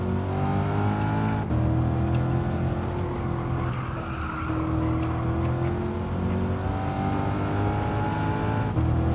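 A Chevrolet C8 Corvette's engine drones loud and steady in Gran Turismo 7, pitch rising and falling with throttle, alongside a squealing tire skid midway.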